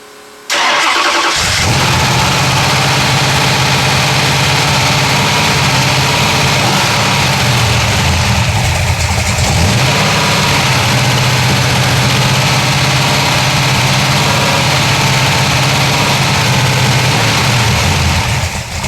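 A 426 Hemi engine fed by inline Holley carburetors starts up and runs loud and close, roaring and revving steadily for the full stretch with no voices.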